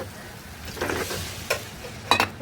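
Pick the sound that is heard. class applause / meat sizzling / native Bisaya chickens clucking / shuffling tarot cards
meat sizzling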